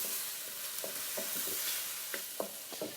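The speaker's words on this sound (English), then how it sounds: "keep mashing them with your wooden spoon or your wooden instrument so that they break apart and form this lovely sauce" Tomatoes mashed with a wooden spoon in a pan for a pasta sauce, giving soft scraping and squelching strokes over a faint sizzle, with no one talking.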